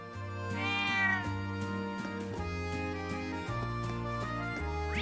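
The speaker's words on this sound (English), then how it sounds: "Oh, I see a kitty cat." Cats meowing in the video game The Legend of Heroes: Trails of Cold Steel, a run of clear, close, repeated tonal meows one after another over a low steady game music backdrop, no talk.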